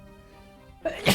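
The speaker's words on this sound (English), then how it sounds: "Little sneeze coming on here." A single short sneeze bursts out at the very end, following a near-silent moment with faint background tones.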